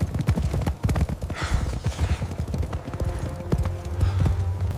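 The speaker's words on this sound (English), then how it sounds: "Horse races, galloping for the deceased." Rapid, irregular clip-clop of hooves as horses gallop close by, a dense pounding rhythm with faint voices underneath.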